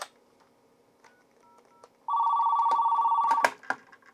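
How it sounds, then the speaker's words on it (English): IP telephone on a homelab telephony box rings after an extension is dialed: faint clicks and soft keypresses, then a loud, close electronic ring tone for about a second and a half, followed by handset clatter. "If I dial the number 600, it should ring this guy."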